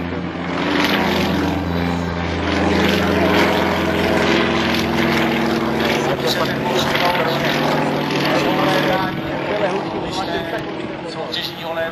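A Yak-55 aerobatic propeller aircraft flying, with a loud, continuous engine drone and propeller whine that shifts in pitch as it maneuvers, and a voice heard beneath it.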